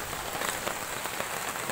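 Heavy rain driven by strong wind from Cyclone Dana in Mayurbhanj, Odisha, a steady dense hiss of rainfall close by with no pauses and no voices.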